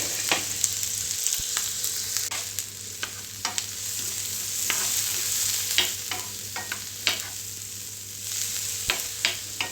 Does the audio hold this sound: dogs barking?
no